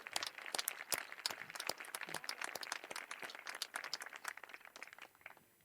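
An audience at a middle school promotion ceremony applauds student speeches with steady, dense clapping that fills the room, then gradually thins and fades toward the end.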